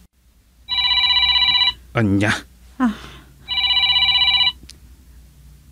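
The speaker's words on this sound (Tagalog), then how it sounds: "Sungbatam kumaday ta cellphone mo." A cellphone ringing in electronic trilling bursts, two clear rings separated by a pause, loud and close, with a person speaking briefly between the rings.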